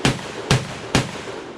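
Three loud, close gunshots from an SDS Imports AKSA S4 shotgun ring out at an outdoor range, spaced about half a second apart, each a sharp blast with a short fading tail.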